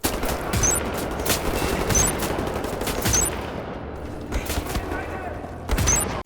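Rapid video game gunfire from Wolfenstein, with dense bursts of automatic shots and sharp pistol and shotgun blasts firing almost continuously, loud and close, with brief gaps between volleys.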